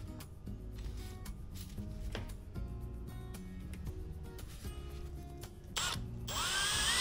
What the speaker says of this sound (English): the drill bit I'm using is just a skosh under the diameter of the tap. So this is a 7/32 drill bit